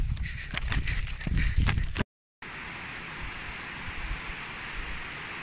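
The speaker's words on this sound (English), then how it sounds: "And here comes the rain again." Steady rain falls outdoors on a farm on a wet morning, a broad continuous hiss with some louder spattering and footsteps-like thuds early on, a brief dropout, then an even, moderate downpour.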